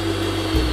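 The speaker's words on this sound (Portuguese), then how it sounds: "Bater toda essa mistura na batedeira." An electric stand mixer whips a meringue base for a quick chocolate mousse, its steady motor whir running continuously and close, shifting pitch slightly near the end with no voices present.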